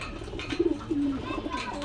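A pigeon in a pigeon shop in Gollamari, Khulna, gives a few soft, low coos close by, amid faint background noise.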